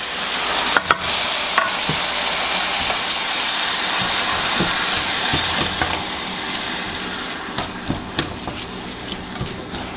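Beef broth poured onto sizzling vegetables in a pan while they are stirred: a loud hiss and bubbling steam with sharp scrapes and knocks of the spoon scattered throughout.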